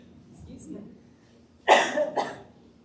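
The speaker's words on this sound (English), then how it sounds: "I don't know if anyone else has that cough that's been going on for 3 weeks" Two sharp coughs in quick succession, close and fairly loud, after a moment of quiet breathing.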